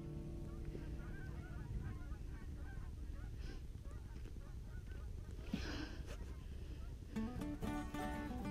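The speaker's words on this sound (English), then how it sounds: "Some geese just flew by." A flock of geese flies past during a jackrabbit hunt, their honks faint and distant over steady outdoor background noise, with a few louder calls near the end and people talking quietly underneath.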